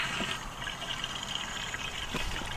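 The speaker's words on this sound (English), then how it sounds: "Bring this over here to our freshwater fill. Stick the hose in." A hose runs water into an RV's freshwater fill, a soft steady trickle and splash close by, faint and continuous with no speech.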